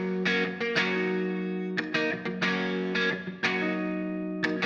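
Electric guitar phrase run through effects, heavily distorted with chorus and reverb, playing sustained chords with several sharp re-attacks, loud and close with no talking.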